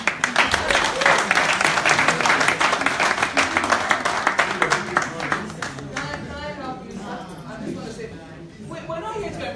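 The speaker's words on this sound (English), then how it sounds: "Want to give a round of applause?" A room of people breaks into a round of applause, dense, close clapping that is strongest early and then tapers off as voices take over and talk continues.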